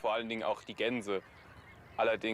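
Geese honk in the Nordstrandischmoor marsh on a German Hallig island, several loud nasal calls in two bursts separated by a short pause, close by.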